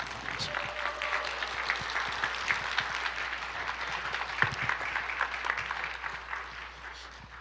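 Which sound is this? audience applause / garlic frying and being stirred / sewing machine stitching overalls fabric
audience applause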